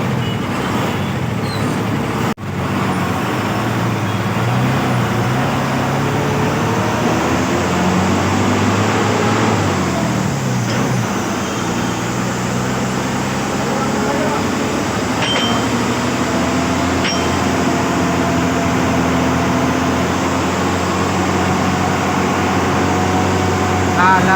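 An MSRTC Lalpari bus on the Sangli to Ichalkaranji route, driving and turning right. A constant, loud engine and road drone fills the cabin, with faint voices in the background.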